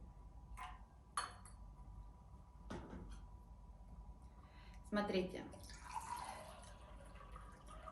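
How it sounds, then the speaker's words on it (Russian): Water poured into a small Chinese gaiwan tea bowl: a few brief trickles and drips, then a short burst of pouring, fairly quiet, with a voice speaking briefly. "я просто налью воду"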